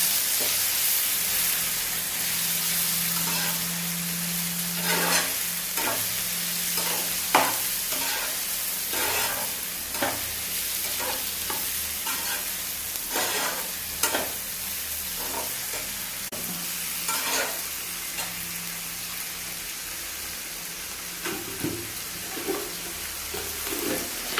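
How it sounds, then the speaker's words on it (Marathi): Whole masoor lentils frying with garam masala and turmeric, stirred in a pan: a continuous sizzling hiss broken by repeated light scrapes and clinks of a spoon, close and steady, with a faint hum underneath. "आणि हळद टाकून चांगली ही हलवून घ्यावी"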